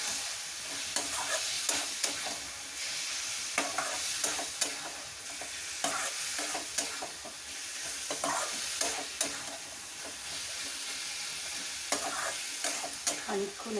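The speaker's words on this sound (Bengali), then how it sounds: "মাংসটা জল ঝরানো চিকেনটা, যেটা নুন হলুদ মাখিয়ে আমি রেখেছিলাম, সেইটা এর মধ্যে দিয়ে খানিকক্ষণ কষাতে হবে।" Drained chicken pieces, rubbed with salt and turmeric, sizzle softly in a pan while being stirred, with regular scraping strokes over a steady hiss.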